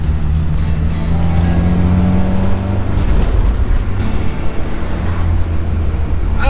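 A 1979 Ford Mustang Foxbody is floored at full throttle, its engine a loud, steady roar heard from inside the car, with the drone shifting in pitch as it pulls and rough road noise underneath.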